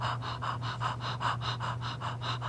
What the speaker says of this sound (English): breathing in, and then just do a little panting